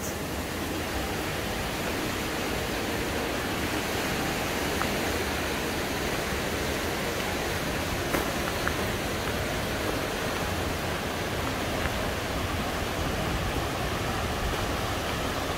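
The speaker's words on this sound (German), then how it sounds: "Die Schüss führt heute sehr viel Wasser." The swollen Schüss river rushes through the narrow Taubenloch gorge after heavy rain, a loud, steady, unbroken roar of churning water from start to finish.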